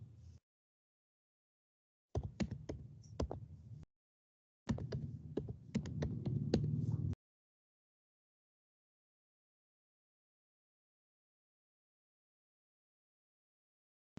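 Someone types on a computer keyboard in two short bursts of rapid, close key clicks, with a few brief taps before them, and then the room falls silent.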